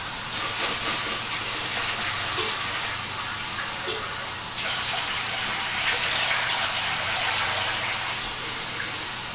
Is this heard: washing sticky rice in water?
yes